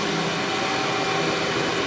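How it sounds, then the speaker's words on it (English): An Amway CMS 1000 Clear Trak cyclonic vacuum cleaner runs while picking up coffee from a floor, giving a steady, loud broadband whoosh and motor hum with no pauses or speech. "so while I would vacuum slower normally"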